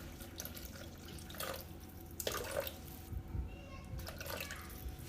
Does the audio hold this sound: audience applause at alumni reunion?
no